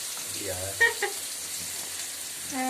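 Steady sizzling as sliced small onions and green chilli sauté in a pan, with brief clinks of stirring and a voice talking over the frying.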